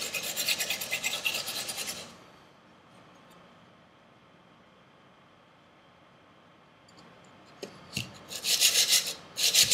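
A thin, cheap kitchen knife is stroked across a sharpening stone at a low angle to grind away its secondary V bevel, giving bursts of close, steady rasping at the start and end with a quiet pause between.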